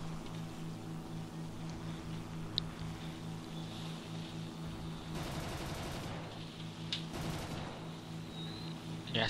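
Fw 190 D-13 fighter plane in War Thunder, a steady droning engine broken by two short bursts of rapid machine-gun fire, the second briefer than the first.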